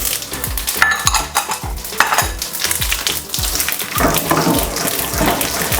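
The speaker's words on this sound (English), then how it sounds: "our oil is hot, so we're going in with our cumin, coriander, and black pepper. Immediate sizzle." Cumin, coriander and black pepper sizzle and crackle in hot oil, loud and close, with repeated scraping stirs of a utensil against the pan.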